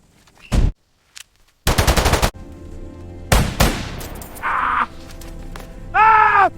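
Gunshots ring out in a gun duel: a sharp single shot, then rapid bursts of fire and further loud blasts separated by brief silences, with a harsh caw-like cry at the end and no speech.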